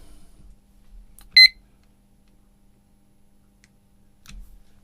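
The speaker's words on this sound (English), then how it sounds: "We'll set our timer." A charger timer gives a single short electronic beep as it is set, with near silence before and after apart from faint handling noise.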